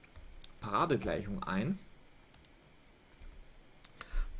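Keys on a pocket calculator are tapped in a handful of light, sharp clicks, scattered around a short stretch of speech.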